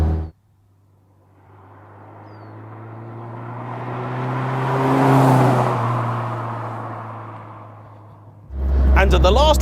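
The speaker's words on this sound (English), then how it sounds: "though you may not believe me from either the look or the sound of it, this is the original exhaust" A Lotus Elise Sport 160 on its original exhaust swells in engine note as it approaches and passes, peaking loud mid-clip and fading, followed by an abrupt loud burst of sound at the end.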